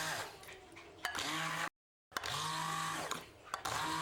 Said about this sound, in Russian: Для однородности рикотту нужно измельчить с помощью блендера.